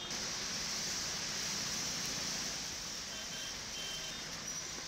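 Heavy monsoon rain pouring over the city of Jaipur, heard as a steady, even wash of broadband hiss that stays constant throughout, fairly faint, with no voices.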